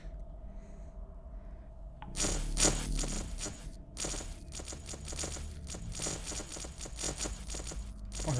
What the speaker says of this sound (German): Oh, hört ja gar nicht mehr auf hier. Mit dem Münzenregen.